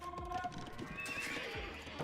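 Horses neigh and clip-clop as game sound effects in Age of Empires 2, a short whinny over steady hoof clatter against a busy background of other game noises.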